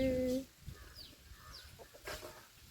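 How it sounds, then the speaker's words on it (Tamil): A few thin, high peeps from baby chicks, close by, over soft rustling after a short low hum at the start. "பாருங்க குட்டி கோழி குஞ்சு"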